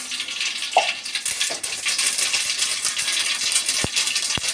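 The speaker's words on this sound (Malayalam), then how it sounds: "നമുക്ക് കടുക് ഇട്ട് കൊടുക്കാം" Mustard seeds dropped into hot sesame oil for a tomato pickle: a loud, close, steady sizzling hiss crowded with rapid popping crackles and a few sharp pops.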